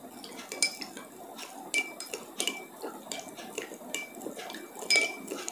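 A rice bran oil mixture is stirred in a container, with a metal utensil clinking and scraping against the sides in quick, irregular taps, close but fairly quiet.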